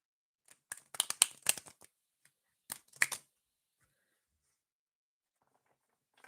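Tarot cards shuffled in quick bursts of crisp riffling and flicking, a dense cluster early on and a shorter pair of shuffles a moment later, close and fairly quiet against silence.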